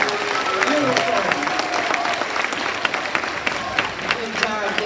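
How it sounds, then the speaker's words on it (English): School assembly audience at a middle school clapping for student singers, continuous broad applause with scattered sharper claps and cheers throughout, steady and fairly loud. "Y'all give them another hand clap."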